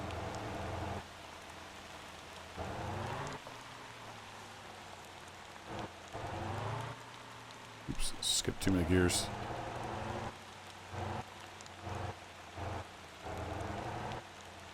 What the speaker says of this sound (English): Tell you what, that rain sounds really good.